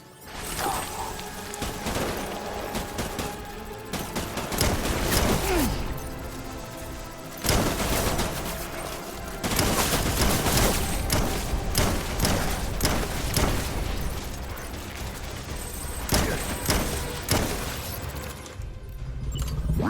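Gunfire in the video game Death Stranding: loud bursts of automatic fire mixed with crashes, shattering impacts and booms, sustained across the whole stretch with short lulls between volleys.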